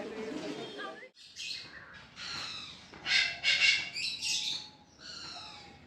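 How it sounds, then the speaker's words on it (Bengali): Several birds call outdoors at the Himalayan Zoological Park in Darjeeling, with harsh crow-like caws and chirps overlapping in bursts over a soft background hum. "আর পাখিদের কলকাকলিতে আমার কথা বলতে ইচ্ছে আছে না"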